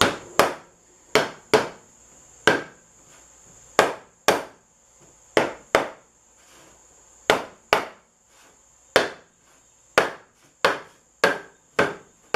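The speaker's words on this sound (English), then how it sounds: "And hammer it down." Sharp, evenly spaced hammer blows tap a paint can lid shut through a laid-over rag, about twenty loud strikes coming in quick pairs and small clusters, with no voices.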